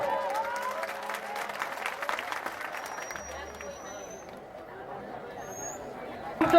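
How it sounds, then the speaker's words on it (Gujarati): Applause from an audience at a community donation event, a steady, moderately loud wash of clapping and crowd noise that gradually thins out. "જોરદાર તાળીનો ગગડા"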